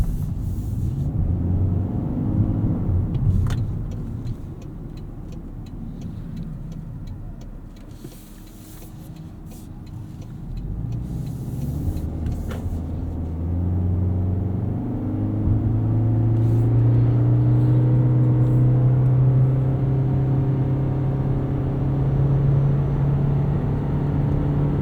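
Cabin of a 2023 Toyota Corolla Hybrid XLE on the move, a steady low road rumble and drivetrain hum rising in pitch as it accelerates, with faint clicks and taps near the start and no talking.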